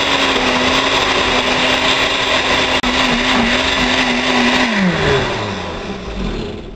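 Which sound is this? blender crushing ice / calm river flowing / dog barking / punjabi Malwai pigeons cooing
blender crushing ice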